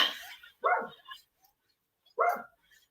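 A dog barks next door, three separate woofs sounding somewhat distant with quiet gaps between them and no talk over them.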